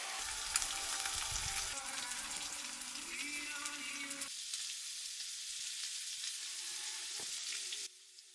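Steak sizzles loudly in a hot pan, a dense steady hiss that drops abruptly in level near the end.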